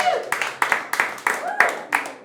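An audience claps at a stand-up comedy show, sharp bursts of hand claps arriving in a steady rhythm roughly every third of a second, close and clear.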